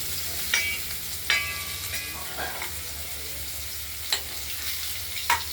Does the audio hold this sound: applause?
no